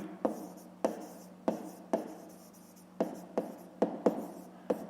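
Pen strokes on paper while writing out a fifth-grade math exercise, a quiet series of sharp taps and short scratches in an uneven rhythm, about ten marks in a few seconds, close and alone.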